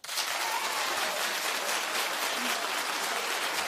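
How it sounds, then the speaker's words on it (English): Studio audience at a daytime talk show clapping steadily and loudly throughout, a dense sustained wash of applause with no voices over it. "Clap if you don't care."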